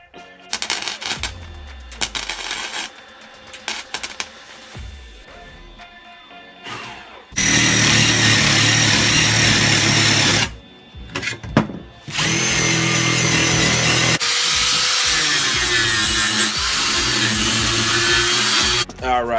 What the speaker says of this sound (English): All right, time for the drilling part.